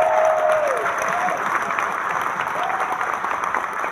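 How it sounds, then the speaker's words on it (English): Rally crowd applauding a union speaker in Albany, New York, a dense wash of clapping that is loudest at the start and then eases, with a few shouts and a voice over it. "we will give them a round of applause"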